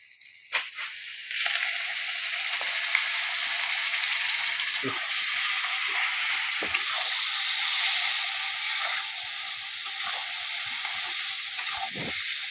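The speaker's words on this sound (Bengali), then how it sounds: "এখানে টমেটোটা দিয়ে দিলাম টমেটোটা ভেজে নিব" Tomatoes fry in hot oil in a pan for chicken curry, producing a loud, steady sizzling hiss that runs throughout with faint knocks of the spatula.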